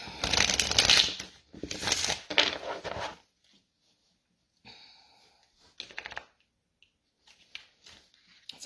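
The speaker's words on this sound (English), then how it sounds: "I'm going to shuffle it a couple of times." A deck of cards being shuffled twice in quick riffling bursts, close and crisp, followed by quieter scattered card handling and soft taps.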